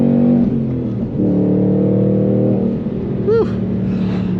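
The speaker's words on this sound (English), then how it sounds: "there's a naturally aspirated 5-liter engine under that hood" A loud, deep naturally aspirated 5-liter engine of a 2022 Ford Mustang Mach 1 rumbles close by, its pitch shifting as it revs, with a brief high chirp near the end.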